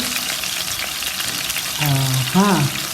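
Sliced spinach fries in a pan, a steady close sizzle throughout, with a brief tonal hum or voice-like sound rising near the end.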